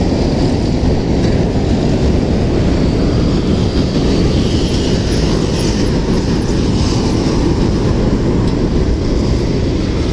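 A light rail train rumbles past close by in a loud, steady roar with a low-end rattle that holds for about ten seconds, and no voices.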